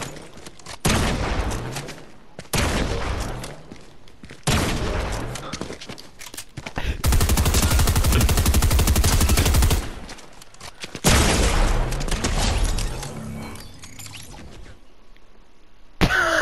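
Video game gunfire in several loud bursts separated by short gaps, with one long sustained volley in the middle, close and alone without talk.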